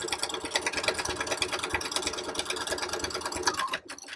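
A small sewing machine stitching a mock bag runs in a fast, steady whir of needle strokes close by, then stops abruptly near the end.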